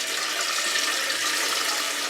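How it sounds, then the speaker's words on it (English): Cold water poured into a pot over eggs, a steady, close, full-bodied rush of running water with no pause. "now cover your eggs with cold water"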